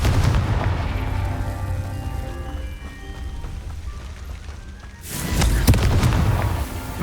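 Fiery Confringo spell blasts from the video game Hogwarts Legacy, a rumbling crackling explosion that fades, then a second loud sharp burst with booming fiery crackle near the end, over game background noise.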